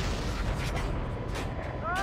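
Heavy gunfire in a combat exercise, dense booming reports rumbling continuously under shouted voices.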